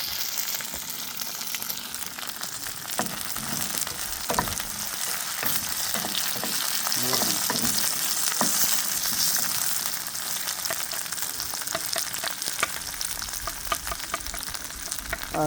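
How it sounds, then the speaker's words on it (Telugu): Okra sizzles and fries steadily in a pan for a Telangana roti pachadi, a continuous close crackle with occasional stirring scrapes and pops and no talking. "ఈలోపు బెండకాయ ఆల్మోస్ట్ ఫ్రై అయిపోయింది."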